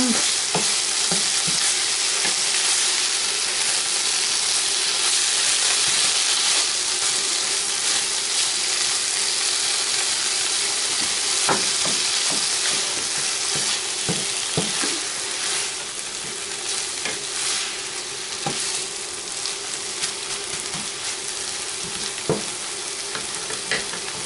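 Frozen mushrooms sizzle loudly in a hot frying pan for a Brazilian chicken pie, a dense continuous crackle punctuated by the scrape and clatter of stirring, with no voices.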